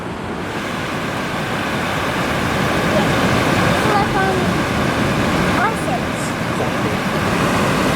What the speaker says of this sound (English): Look at these waves, so powerful.